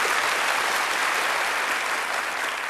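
Studio audience at a Dutch TV variety show breaks into steady, dense applause, a continuous wash of clapping held at full strength throughout with no voices on top.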